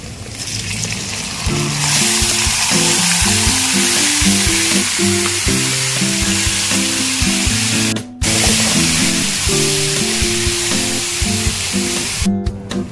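Meat sizzling loudly in hot cooking oil with garlic and onion for menudo, a constant close spattering hiss under background music, briefly cutting out twice.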